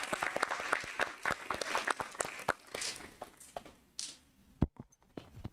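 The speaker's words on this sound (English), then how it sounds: "we want to also applaud all the hard work that you've done as well" Applause for students at a school district board meeting, a smattering of claps in a room that thins out and ends with a few scattered final claps and shuffling.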